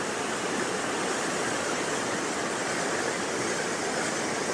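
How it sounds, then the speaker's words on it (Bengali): Waterfall at Dawki, Meghalaya, with water pouring down from high above over a wide area; a steady, dense rushing roar that stays constant throughout, with no voices. "জল ওই উপর থেকে নামছে।"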